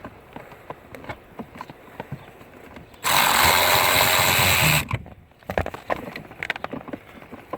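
A power drill whirs loudly for about two seconds while backing screws out of a Ford F-150 blower resistor, with quieter handling clicks and rustling before and after.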